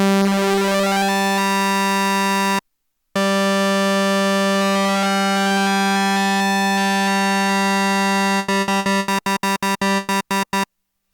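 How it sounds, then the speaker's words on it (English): A Novation Summit synthesizer plays a bright, buzzy sustained tone with oscillator 2 hard-synced to oscillator 1, loud and steady, briefly cut off once, then chopped into rapid stuttering bursts near the end. "You can hear oscillator 2 is synced to oscillator 1, sounds like this."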